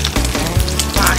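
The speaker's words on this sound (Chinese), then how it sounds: "打开倒入鸡蛋， 鸡蛋像瓜一样的绽开，" Eggs poured into hot oil while cooking eggs with cucumber, frying with a loud, dense sizzle that holds steady and close throughout, with no voices.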